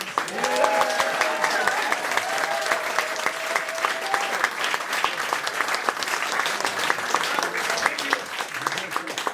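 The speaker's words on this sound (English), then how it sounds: "clap your hands, please" An audience at a concert claps steadily to call the band back for an encore, a dense, even wash of applause lasting throughout with faint voices mixed in.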